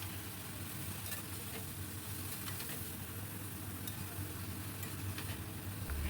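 Chopped bottle gourd for shukto is stirred and fried in a pan, a soft continuous sizzle with light scraping of the spoon, steady and quiet throughout.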